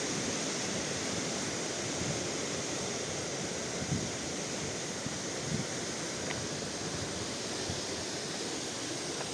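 Hurkalo waterfall in the Carpathian Skole Beskids roars as a dense, steady rush of falling water, loud and continuous with no break and no voices.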